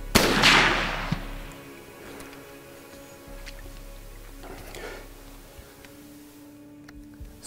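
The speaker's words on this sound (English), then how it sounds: "So I just shot at a beautiful buck here." A single rifle shot fired at a buck while hunting on Anticosti Island, a sharp loud crack at the start that rings out and decays, followed by quiet outdoor ambience.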